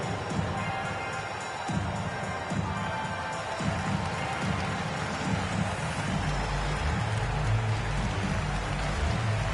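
A crowd in an NBA 2K23 video game basketball arena, giving a dense, steady, rain-like wash of applause and cheering that continues throughout the clip.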